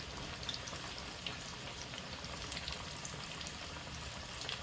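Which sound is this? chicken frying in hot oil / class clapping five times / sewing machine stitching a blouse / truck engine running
chicken frying in hot oil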